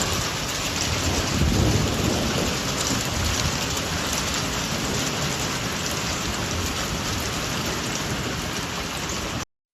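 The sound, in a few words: hailstorm with heavy rain and thunder in Idaho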